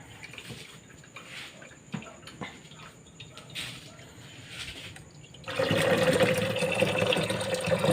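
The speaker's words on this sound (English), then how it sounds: "First, fill it with water. This is a tap water." Tap water filling a fish tank for a crowntail betta, soft intermittent splashes and trickles that swell into a louder, steady gushing pour near the end, with no talking.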